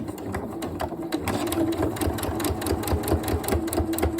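A sewing machine back stitches a cushion with a fast, even mechanical chatter of needle strokes, close and loud, running steadily throughout.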